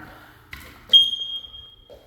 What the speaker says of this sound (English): Another smoke detector in each bedroom.